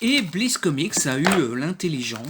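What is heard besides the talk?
No distinct noise like a dog, phone or traffic.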